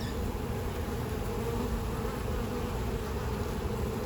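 Honey bees from a package colony buzz densely and continuously at close range while the hive is opened for inspection, a steady swarming hum with no talk.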